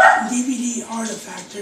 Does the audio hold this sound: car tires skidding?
no